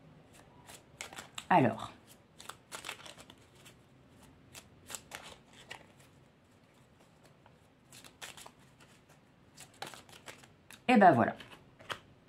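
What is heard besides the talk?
shuffling oracle cards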